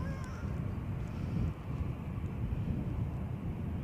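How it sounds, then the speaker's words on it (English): Wind buffets a microphone outdoors at Edinburgh Airport on a windy day, a continuous low rumble and roar that holds steady at moderate volume with no voices over it. "Bit of a windy day here, I've discovered."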